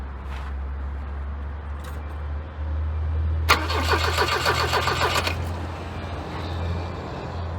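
A Volvo 240 bought at auction and sitting unused for a long time cranks over for about two seconds, catches, and settles into a rough idle, close and loud over a constant low hum.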